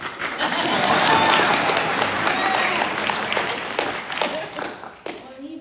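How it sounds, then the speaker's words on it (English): A comedy show audience breaks into a dense patch of applause that swells, then thins to scattered claps, with some talk and crowd murmur mixed in. "Some laughter would be nice, but I'd settle for a smattering of applause."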